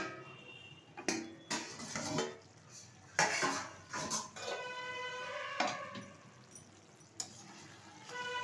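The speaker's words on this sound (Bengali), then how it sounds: "ঢাকনাটা তুলে দিচ্ছি।" A pot lid comes off a simmering mankochu (giant taro) curry with a few sharp metallic clanks and scrapes, close by, scattered across a quiet kitchen.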